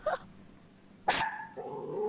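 A dog in the Ghost Recon open beta video game barks twice: one short yap at the start, then after a pause a louder bark that trails into a drawn-out whine, heard alone without talk.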